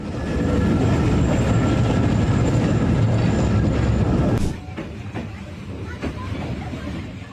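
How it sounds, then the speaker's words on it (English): An excursion train runs along the rails with a dense, close rumble and clatter that holds steady for several seconds, then drops off abruptly, leaving quieter background with a few faint knocks. "Excursion trains let people experience rail travel the way it sounded a century ago."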